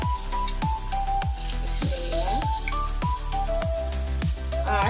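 Pitha batter hisses in hot oil on a medium-low flame, steady frying crackle broken by repeated sharp spoon taps and drips at a regular beat, close and clear.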